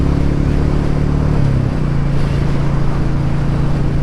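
A Royal Enfield Meteor 350 motorcycle cruises along, its engine a steady low drone under constant wind rush, the pitch easing slightly partway through, with no talking.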